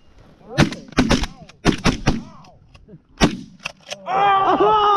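Several sharp shotgun blasts fire in quick irregular bursts during a goose hunt, loud and close, then a steady tonal honking or call sound takes over at the end.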